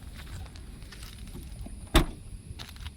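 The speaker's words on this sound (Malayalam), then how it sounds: "നമുക്ക് ബൂട്ട് അടയ്ക്കാം." The boot lid of a Hyundai Exter car slams shut once with a single sharp thud, set against a faint steady background hum.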